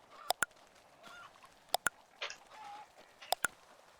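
Chickens foraging for food give sharp repeated clucks and squawks in three paired bursts, loud and close, with quieter scratching and rustling sounds between them and no talking.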